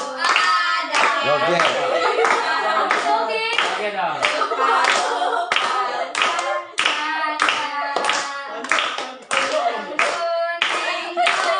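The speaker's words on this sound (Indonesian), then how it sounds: "Ayo tepuk tangan." A group claps hands in rapid rhythmic bursts along with lively singing and chatter, the claps sharp and close, continuing across the whole stretch under the voices.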